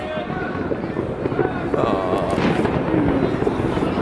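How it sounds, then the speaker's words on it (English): New Year fireworks going off around a person in Prague, a dense crackling and booming barrage with a continuous roar of nearby bursts while people talk over it. "fireworks going off around me"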